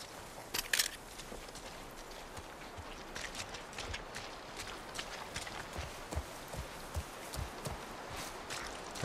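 Horse hooves clop along at a steady walking pace in The Last of Us Part 1, a series of close, crisp strikes set over a low outdoor ambience.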